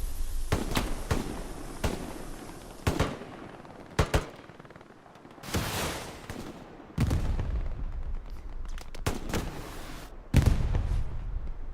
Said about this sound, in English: Nails one with the rocket.